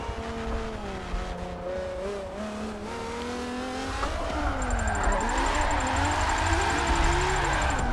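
A street-driven Nissan 370Z drifting in tandem with other cars at a public drift event, engine revving and rising steadily with tire noise, close and loud throughout and growing more intense toward the end.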